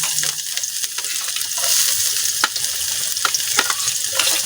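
Garlic and onions sauté in a pan for a mung bean dish, giving a loud, close, crackling sizzle with repeated sharp stirring clicks and scrapes.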